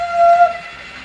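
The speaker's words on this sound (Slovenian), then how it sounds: "Vlak, ki se pelje po tirih." A train rolls along railway tracks with a steady mechanical rumble and a sustained whistle-like tone early on, fairly close and loud, then eases slightly while continuing without speech.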